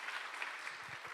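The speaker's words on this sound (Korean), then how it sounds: "그냥 이렇게 허투루 박수 치는 게 아니라 진심이 느껴져서 좋네요." A church congregation applauds briefly at a moderate distance, a steady wash of clapping with faint low murmurs near the end.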